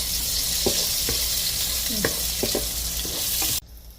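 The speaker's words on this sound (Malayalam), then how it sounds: "നമുക്കിതിലേക്ക് ഒരു ഉള്ളി വാട്ടാനിട്ട് കൊടുക്കാം" Onion sautéing in oil and ghee with meat in a pot, a steady close sizzle broken by several soft stirring scrapes, ending abruptly near the close.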